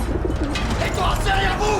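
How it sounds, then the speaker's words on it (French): A pigeon coos amid battlefield chaos in an animated Battlefield 1 war film, with soft coos under a shouted line of dialogue and a dense, noisy background. "Le pigeon!"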